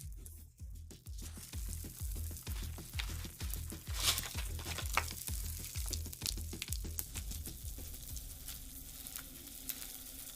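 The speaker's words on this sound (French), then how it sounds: "J'adore le grésillement et les crépitements." Dense crackling and popping of Pop Rocks candy fizzing in slime, with a squishing rhythm underneath, close and continuous.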